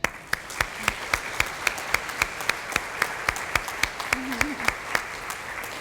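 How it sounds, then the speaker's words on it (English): Audience applause for award winners and partners at a school district partnership recognition breakfast, steady crowd clapping with sharp individual claps standing out throughout, and a brief voice rising faintly near the end. "how about one more round of applause for all of the award winners and partners that are here"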